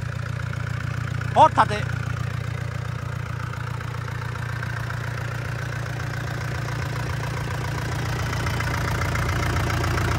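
A FAW 485 non-turbo diesel engine idles with a steady, low, even rumble throughout, and someone speaks briefly near the start.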